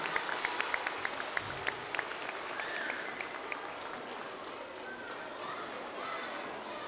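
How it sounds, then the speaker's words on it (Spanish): An audience applauds award winners at a school reading ceremony, steady quiet clapping heard from a distance with a few sharper individual claps standing out near the start. "Un aplauso grande entonces para todos nuestros premiados de hoy."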